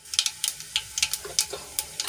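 Mustard and cumin seeds popping in hot oil in a kadai, a quick irregular series of sharp crackles and spits over a quiet background.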